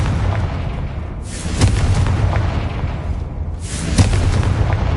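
Confringo blasting spell in Hogwarts Legacy, two booming bursts a few seconds apart, each a sharp crack followed by a rumbling explosive tail over low game ambience.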